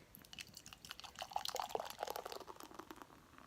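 Boiler Brewing Punkaccino beer is poured hard into a glass, giving close, faint fizzing and gurgling splashes that rise and fall over a few seconds with no talking.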